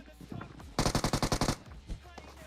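Rapid automatic gunfire in an online shooter game, a burst of about nine evenly spaced loud shots followed by a single later shot, with faint game ambience around it.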